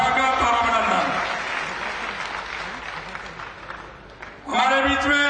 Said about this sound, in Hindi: जोरदार तालियों के साथ स्वागत और अभिनंदन